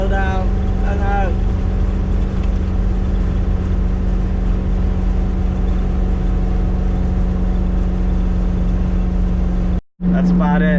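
Old RV engine laboring up the steep grade of Telegraph Pass near Yuma, Arizona, a steady loud drone and rumble inside the cab with a brief break near the end as it kicks down a gear; voices talk over it.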